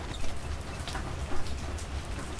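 Steady rain falling, a constant dense patter of drops on surfaces with a low rumbling wash underneath, no voices.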